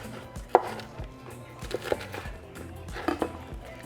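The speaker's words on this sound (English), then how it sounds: "now we're just going to chop our bacon and ham into bite-sized pieces" Knife chopping bacon and ham into bite-sized pieces on a board for a breakfast quesadilla, a few sharp close knocks spaced irregularly over low kitchen background.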